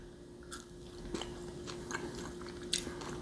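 An edible insect snack, a chewy worm type, being bitten and chewed close to the mouth, with soft wet crunches and squishy clicks scattered irregularly over a quiet background hum.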